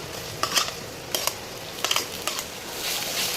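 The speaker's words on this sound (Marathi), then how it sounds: "आता आपण मिरची टाकणार आहे त्यात." Green chillies fry in hot oil while a spoon stirs them, giving a few sharp scraping clicks over a low, continuous sizzle.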